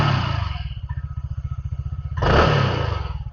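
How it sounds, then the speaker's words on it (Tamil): A TVS Ntorq 150 scooter engine runs with a steady, pulsing idle, then revs up sharply near the end and stays loud and close. "இப்போ நான் உங்களுக்கு வந்து வண்டி ரைஸ் பண்ணி காட்டுறேன்."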